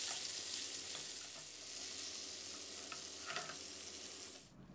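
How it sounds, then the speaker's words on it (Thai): Vegetables, including shimeji mushrooms, stir-fried in a hot pan for a spicy mala noodle dish, giving a steady loud sizzle with scraping stirs, ending abruptly. "แล้วก็ผัดผักของเราให้สุกสลดนะครับ"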